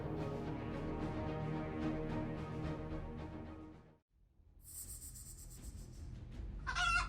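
A hen with her chicks, clucking and crowing-like calls repeated rhythmically and fairly close, then a brief silence followed by quieter high chirps and rustling.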